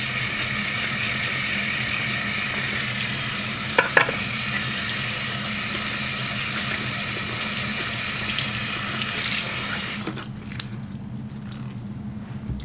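Tap water runs steadily into a sink while makeup brushes are rinsed, a close continuous splashing hiss with a brief clatter near the middle, cutting off abruptly toward the end.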